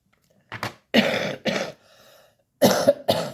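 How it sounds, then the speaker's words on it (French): A person coughs in short, dry bursts, two pairs and a single cough with a pause in between, close and loud in an otherwise quiet room. "Maintenant, je tousse."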